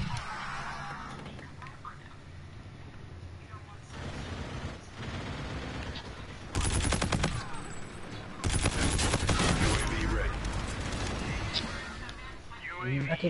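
Gunfire in Call of Duty Infinite Warfare: two loud stretches of rapid shooting in the second half, with a player's voice talking over the game throughout.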